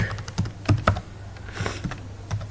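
Rapid clicking of keys on a computer keyboard while code is typed, clattering in short irregular bursts at close range over a low steady hum.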